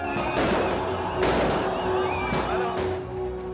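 Several sharp, crackling bangs of fireworks burst through a dense, noisy, jubilant crowd celebrating released hostages in the West Bank, with a steady horn tone sounding underneath.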